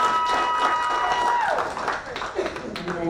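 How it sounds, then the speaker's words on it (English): An audience gives a round of applause during a spoken-word event, a mix of clapping and cheering voices at moderate volume. "Can I have one more round of applause to all of you?"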